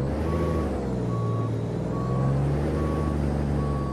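A Kenworth 521 truck in American Truck Simulator reverses with a steady diesel idle rumble while a backup alarm beeps five times at an even pace, clear and close.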